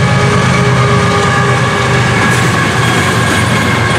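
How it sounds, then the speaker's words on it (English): FEC123 freight train rumbling past close by, loud and continuous, with clattering wheels, rolling cars and a faint high wheel squeal. "The train that everybody loves to hate is right here."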